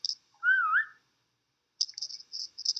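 A person whistles to call a dog: one rising, sliding whistle, then a burst of short, bright repeated chirps a moment later, close and clear over near silence.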